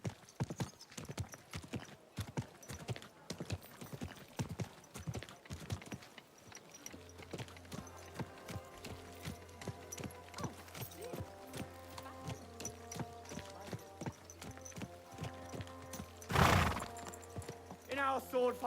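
Horse hooves clip-clopping in the medieval video game Kingdom Come Deliverance 2, a steady walking rhythm near and fairly loud, with an occasional neigh, set against background music and a game voice talking.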